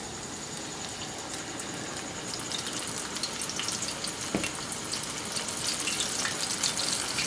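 Steady, loud sizzling and crackling of chicken frying in hot oil in a cast iron pan, a continuous hiss with small pops throughout.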